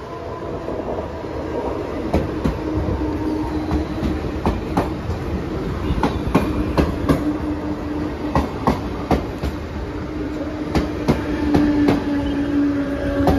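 A fast Mumbai local train runs through Vidyavihar station without stopping, producing a loud continuous rumble with rhythmic clickety-clack wheel beats, sharp metallic clanks and a faint wheel squeal, steady and close throughout.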